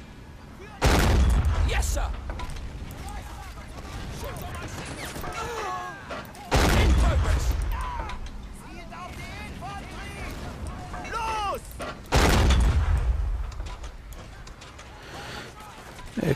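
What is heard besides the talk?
cannon fire in Men of War Assault Squad video game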